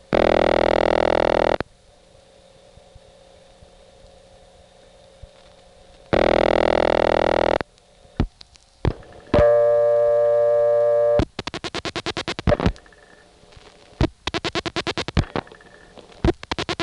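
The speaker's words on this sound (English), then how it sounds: "I just dialed 2 and it goes to this ringtone." Tones and clicks from a 1976 step-by-step telephone exchange in Oley, Pennsylvania after dialing 2: two long loud ring bursts separated by silence, then clicking relay pulses, a buzzing tone and a rapid stuttering signal.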